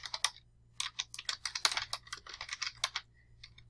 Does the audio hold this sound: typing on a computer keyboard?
yes